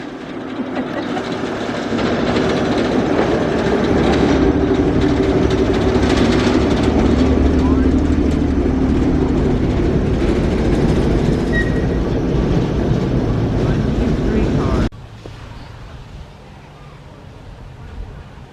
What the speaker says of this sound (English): Here's the little railroad